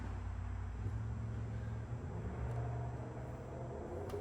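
A freshly built Chrysler 360 V8, bored 40 over with flat-top pistons and a Lunati Voodoo cam, rumbles steadily at a fast idle on its first start in a garage, a loud continuous low drone with no talking.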